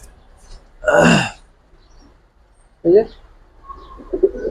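Pigeons in a domestic collection, a mix of military, pankhi and lalpaoi breeds with young birds, give two short throaty coos about two seconds apart over quiet background murmur.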